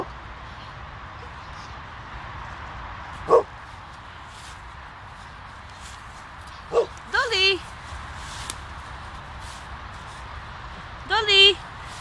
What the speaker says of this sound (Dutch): Ja, blaf kunnen we, dat weten we.